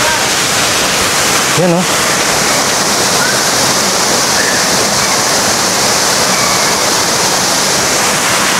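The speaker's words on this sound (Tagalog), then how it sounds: "Oh, Balagbag Falls." Balagbag Falls roars as a constant, loud rush of falling water filling the whole scene close by, with a brief spoken exclamation heard over it near the start.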